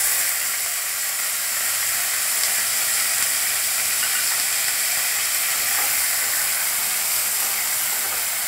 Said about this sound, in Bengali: এবারে আমি কড়াইতে বরবটিগুলো দিয়ে দিলাম।